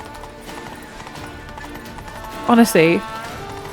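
Horse hooves gallop in The Witcher 3, a steady clip-clop running under game ambience while someone talks over it, with a louder voice burst near the end.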